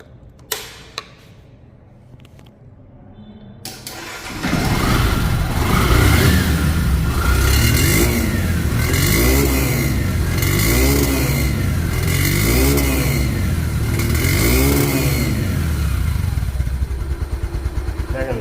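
A Yamaha motorcycle with over 3,000 on the clock starts up after a few quiet seconds of small clicks, then idles steadily with a rhythmic, throbbing putter, close and loud.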